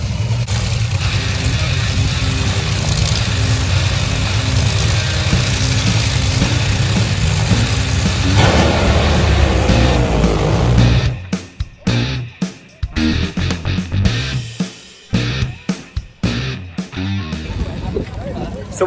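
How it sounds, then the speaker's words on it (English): A top fuel dragster engine at Santa Pod Raceway during a VW show weekend, a loud sustained low roar that cuts off abruptly partway through, followed by choppy bursts and wind buffeting. "Got a drag car now, it's loud, top fuel dragster."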